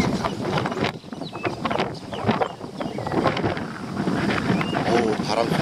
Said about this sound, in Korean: 오, 바람 소리 보세요.